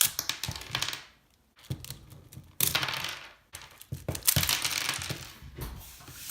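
A Shadow M puzzle cube is pulled apart, giving bursts of hard plastic clicking, clattering and rattling pieces close up, in irregular clusters with brief pauses and no talking.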